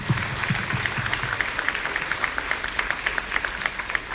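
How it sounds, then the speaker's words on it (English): Audience applause welcoming a guest speaker at a primary school annual day event, a steady wash of many hands clapping that continues evenly throughout, fairly close and moderately loud. "Please give them a big round of applause to welcome him."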